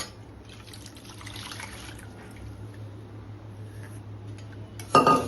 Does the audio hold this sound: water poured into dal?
yes